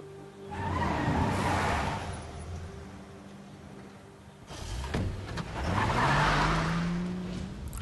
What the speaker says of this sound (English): That's a truck.